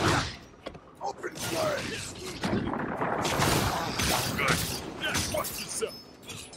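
Bursts of gunfire from the video game Stranger of Paradise: Final Fantasy Origin, loud and dense with clattering mechanical impacts, heard under a player's ongoing speech.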